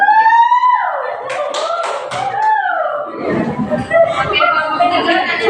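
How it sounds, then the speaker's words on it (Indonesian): Applause from a classroom for student group 3 after their cooperative-learning presentation, a brief burst of claps that swells into a fuller round of clapping, heard under and after a teacher's talking. "Berikan tepuk tangannya kepada kelompok 3."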